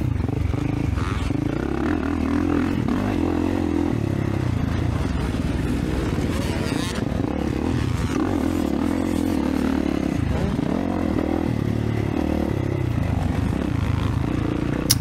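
A 450 dirt bike runs at motocross track practice, its engine droning steadily throughout with rises and falls in revs, fairly close and loud, with rattling and scraping noise mixed in.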